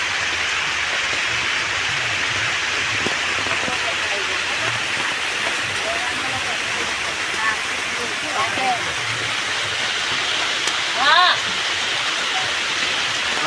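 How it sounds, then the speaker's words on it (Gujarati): Heavy November rain pours down in Gujarat, a dense, steady roar of water close by that holds at one level throughout, with a few faint bird-like chirps near the end. "જો ભૂક્કા કાઢે તેવો વરસાદ પડી રહ્યો છે ભાઈ"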